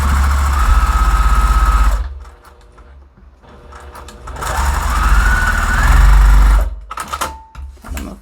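A sewing machine stitches quilt pieces for an eight-point star block, loud rapid mechanical whirring in two long bursts with a quiet pause between and a short final burst.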